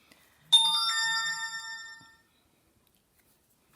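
A mobile phone rings with a bright melodic electronic tone lasting about a second and a half, then stops, alone in a quiet room.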